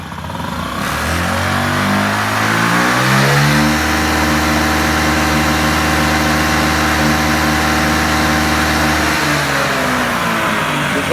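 A 50cc scooter engine, just cleaned with Seafoam, cranks and catches, revving up and down through a couple of rising sweeps before holding a steady, consistent high idle, loud and close.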